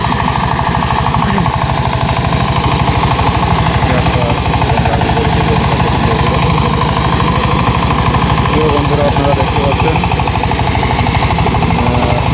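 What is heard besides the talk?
ACI 20 hp power tiller engine ploughing dry field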